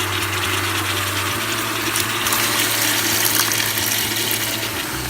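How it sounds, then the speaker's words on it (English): Water poured into a pot of couscous ingredients with onions during Moroccan cooking, a steady continuous rushing pour close by, with a low hum beneath it and no talking. "I'm going to add a little bit of water."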